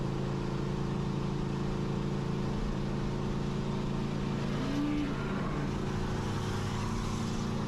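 A 600-horsepower New Edge Mustang races a C6 Corvette Grand Sport with a heads-cam automatic: a steady, loud engine drone runs throughout as a continuous wall of sound, with no voices.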